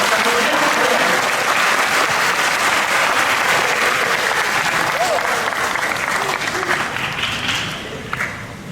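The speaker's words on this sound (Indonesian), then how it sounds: "mari kita ucapkan selamat datang sehangat-hangatnya kepada Bapak Menko Polhukam Profesor Mahfud MD dengan tepuk tangan." An audience at a Ramadan lecture gives loud, sustained applause to welcome Prof. Mahfud MD, a dense wash of clapping that holds steady and then fades slightly toward the end.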